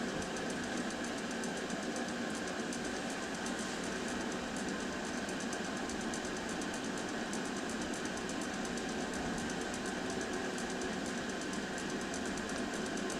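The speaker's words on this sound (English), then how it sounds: "as the pump flows through, we're getting a mixing of the two denaturing solutions" A laboratory pump pushes two denaturing solutions through tubing while casting a DGGE gradient gel, giving a steady, faint mechanical hum with a fine rapid pulsing rhythm that holds unchanged throughout.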